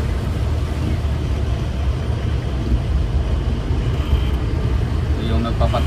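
Street traffic of cars and passenger vehicles rumbles by in a steady, close wash of engine and road noise, with a voice talking over it.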